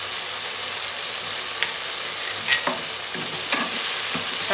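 Chopped tomatoes fry in a pan with a steady sizzle while a spoon stirs them, giving several soft scrapes and clinks through the hiss; no talking.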